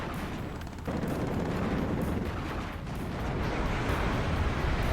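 Flakpanzer Gepard autocannon fire and explosions in the WARNO strategy game, heavy booming blasts and bursts of gunfire crowding together at close range, loud and continuous without speech.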